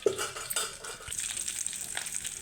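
Dried red chillies fry in oil in a pan with a steady, close crackling sizzle and occasional stirring sounds.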